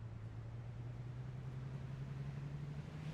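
A steady low car engine drone in a car dealer simulator video game hums continuously, even and unchanging, with a faint airy hiss above it and no voices.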